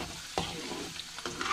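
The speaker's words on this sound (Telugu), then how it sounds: "నీరు పోయేంత వరకు ఒక పకోడీలాగా వేయించుకోవాలి." Bitter gourd pieces frying in oil until the moisture cooks off, a dense continuous sizzle close by, with a few quick spatula scrapes as the pieces are turned.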